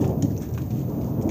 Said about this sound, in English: This storm is really bad.